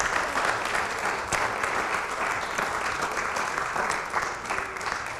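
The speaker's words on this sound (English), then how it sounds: "Let's give our kids a big round of applause for all of this." A church congregation applauds the children in a sustained, dense round of clapping that fills the room steadily for several seconds, with no talk on top.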